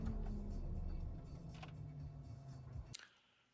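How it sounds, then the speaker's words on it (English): Low idle of a Jaguar F-Type P300 engine dies away as it is switched off, followed by a couple of faint clicks and near silence. "we'll switch the engine off and take a look next in the boot"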